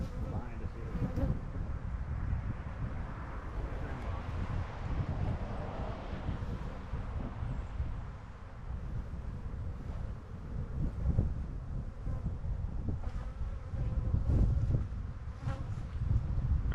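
Bees buzz loudly as a hive frame is shaken out behind a beekeeper, a dense, agitated drone with wind buffeting the microphone and occasional surges in intensity throughout.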